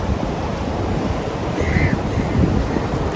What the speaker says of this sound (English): It's actually so windy here and there is like sand going inside the mouth.